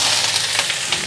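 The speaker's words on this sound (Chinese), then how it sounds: "肉下锅" Pork belly hitting a hot wok, a loud steady sizzle of frying fat filling the short moment, close up with no voices.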